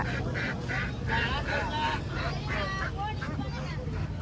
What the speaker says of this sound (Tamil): விஜய் அதை வாத்து பாரு வாத்து பாருடா